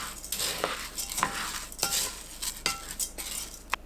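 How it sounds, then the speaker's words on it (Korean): Soaked glutinous rice, millet and sorghum stirred in salted water in a bowl, a soft wet swishing with light clinks of the utensil, close and quiet with no talk. "씻어둔 찹쌀, 차조, 기장, 찰수수 넣고 골고루 섞어줍니다."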